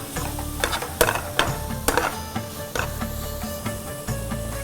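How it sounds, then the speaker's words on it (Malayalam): Shredded carrot is sautéed in ghee in a bell-metal uruli, with repeated close scraping and stirring clatters over a soft sizzle, rhythmic and uneven. "അല്പം കൂടെ നെയ്യ് ഒഴിച്ച് ക്യാരറ്റ് നമ്മൾ നന്നായിട്ടൊന്ന് വഴറ്റുന്നു"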